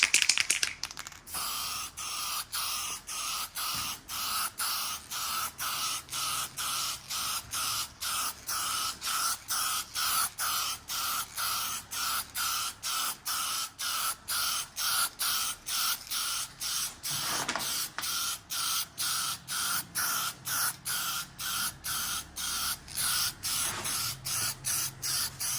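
Spray paint can hissing in rapid, evenly spaced short bursts onto exhaust tips, a close, steady rhythmic spraying that continues throughout with no talking.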